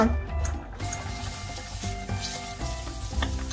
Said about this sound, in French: Je vais mettre mes oignons à revenir.